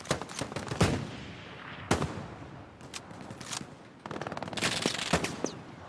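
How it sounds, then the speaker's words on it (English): Machine gun fire in a war video game, scattered bursts and single shots cracking from the left at middle distance, with irregular pauses between volleys. "there's some MG fire coming from the left"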